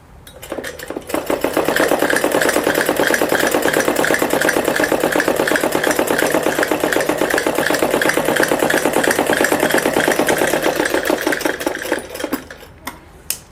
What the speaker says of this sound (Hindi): तो यहाँ पर हमको आसनों पे सिलाई लगा देनी है